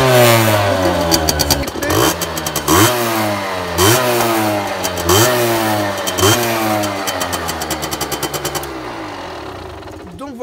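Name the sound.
original Derbi 50cc motorbike engine started and revving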